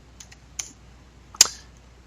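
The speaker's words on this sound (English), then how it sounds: "I'm just going to type them out" A few sharp, separate clicks of computer keyboard keys sound close up in a quiet room, with pauses between them as terminal commands are typed.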